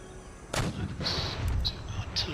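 Artillery shelling in the strategy game Empire Total War, with a few distant booming cannon shots over steady battlefield ambience and someone talking quietly.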